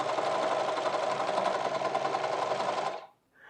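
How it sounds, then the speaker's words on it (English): A sewing machine runs steadily, stitching along the top edge of a high-waisted pleated pants waistband, a fast continuous mechanical whir for about three seconds before stopping abruptly. "And then I'm going to sew just along the top here."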